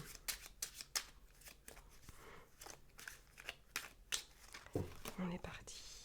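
Tarot cards are shuffled and drawn for a nine-card spread, a run of close papery flicks and slaps with a soft voice speaking at times.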